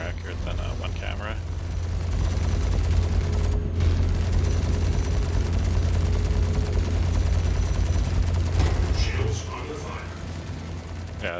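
Rapid gunfire rattles through a Star Citizen space combat scene, rolling over a heavy, steady engine drone for several seconds before it stops and the hum drops away.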